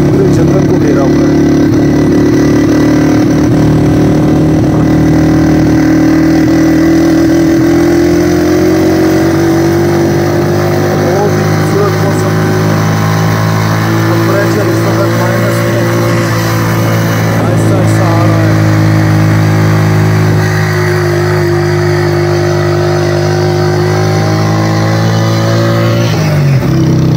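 A motorcycle engine runs steadily on a mountain road near Pir Chanasi in Pakistan-administered Kashmir, a loud, continuous hum with a slight pitch rise that holds throughout, close to the listener.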